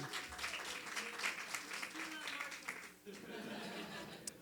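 Audience applause at a Latino employee organization scholarship reception in Long Beach: steady clapping from a modest crowd, with a few chuckles and murmurs mixed in, a brief dip near the three-second mark, then clapping resuming.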